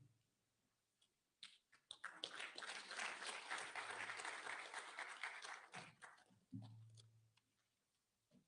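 An audience at a Kenyan International Women's Day celebration applauds award recipients: a few scattered claps build into a swell of crowd clapping lasting several seconds, then fade back to isolated claps and faint murmurs.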